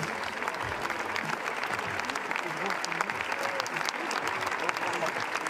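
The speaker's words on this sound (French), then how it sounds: "ils étaient tous évidemment très applaudis, très ovationnés" Sustained, enthusiastic applause from a large crowd, dense clapping continuing without pause, with some voices faintly mixed in.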